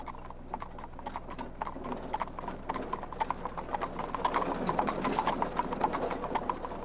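Hooves of roughly thirty cavalry horses of the 3rd US Infantry Regiment, the Old Guard, clip-clop in an irregular, overlapping patter over a steady low hum. The steps grow slightly louder and denser toward the end, with no voices.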